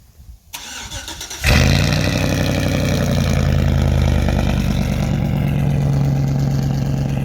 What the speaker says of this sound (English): Here's a little cold start.